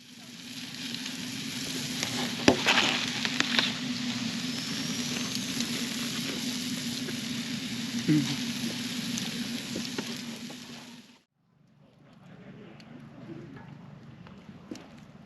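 Potato frying in a pan at an overland campsite in Moab, Utah, a dense continuous sizzle and crackle close by for about eleven seconds, with faint scattered voices, then falling away to quiet outdoor background.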